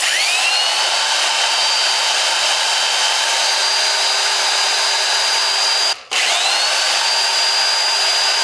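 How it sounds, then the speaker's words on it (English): A steady, high-pitched whine of an old power drill motor running continuously, cutting out briefly and spinning back up near the end. "And an old school power drill."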